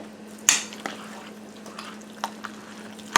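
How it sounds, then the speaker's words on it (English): Roast chicken dressing being stirred in a pan, soft scraping and a few sharp clinks of a utensil against the dish, with no talking. "I'm just going to stir this around."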